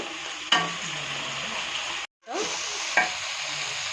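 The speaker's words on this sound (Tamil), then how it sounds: "இதுக்கு இந்த புதினாவை நல்லா வதக்கோங்க." Mint leaves sautéing in a pan give a steady sizzle with stirring scrapes, a sharper clank near the start and another near the end, and a brief gap of silence midway.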